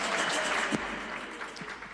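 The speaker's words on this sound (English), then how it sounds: "Give the children a big round of applause." Applause for children after their dance at an ISKCON temple class in Coventry; a moderate, steady patter of clapping from a modest gathering, with one sharper clap standing out near the middle.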